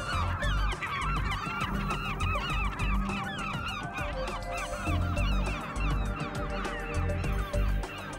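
A flock of birds with chicks flies overhead, honking and calling loudly and continuously in a dense, overlapping racket, with no speech.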